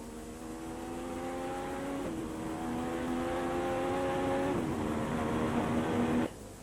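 Formula 1 car heard onboard, its engine note climbing steadily in pitch as it accelerates out of bends, with two gear changes, loud and continuous before cutting off abruptly near the end.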